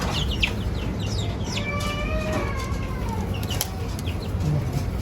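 An African lovebird chick making a few thin, rising chirps that stand out briefly over a constant background hum, along with some scattered sharp high squeaks.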